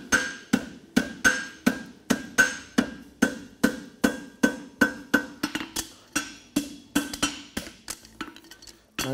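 A farrier hammers the branch of a horseshoe on an anvil to bend it, striking about twenty crisp, ringing blows in a steady, brisk rhythm that grow slightly quicker and lighter toward the end, with no voices.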